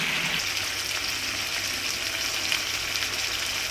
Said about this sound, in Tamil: இப்படியே நல்லா ஒரு 5 மினிட்ஸ் to 8 மினிட்ஸ் நல்லா பாயில் ஆகட்டும் எண்ணெயிலே